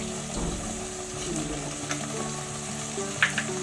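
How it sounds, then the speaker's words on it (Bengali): Spice paste for Bengali milk shukto being fried in a pan, a steady broadband sizzle with soft stirring scrapes and a couple of brief clinks near the end; no voices. "মশলাটা কষে নিচ্ছি"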